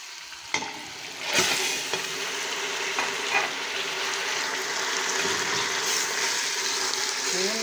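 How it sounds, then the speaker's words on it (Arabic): Meat and onions fry in a pan for a Jerba-style lamb chtitha tagine, a steady close sizzle with a few sharp stirring scrapes and clanks near the start. "ونغطيها ونخليها تزيد تتقلى في بعضها بعض"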